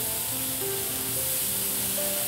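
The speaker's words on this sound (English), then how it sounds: "Just put ice cube" Ice cube sizzling on a hot chrome-plated iron teppanyaki griddle made in France, a steady loud hiss with faint crackle running throughout, no voices.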